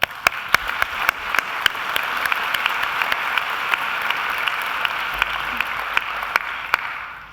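University graduates at a Macquarie graduation ceremony applaud themselves and those around them, a steady, full crowd clapping throughout with a few sharp, louder claps standing out nearby.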